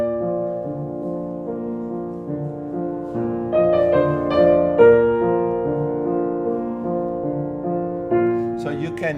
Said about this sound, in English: And the piano also presents it